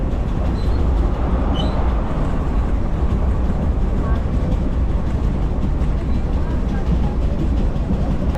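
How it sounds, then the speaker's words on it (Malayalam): A train rolls into a railway station in Kashmir with a continuous loud low rumble and rattle, heavy and close, while people talk over it. "അങ്ങനെ നമുക്ക് പോകാനുള്ള ട്രെയിൻ വന്നു ഗൈസ്"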